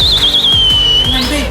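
A long, bright whistle tone, wavering slightly and then rising at the end, rides over a busy, loud background of other sounds.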